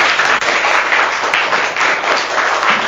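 Steady applause from a crowd closing a BBC Urdu live session, dense clapping sustained for a few seconds without a break.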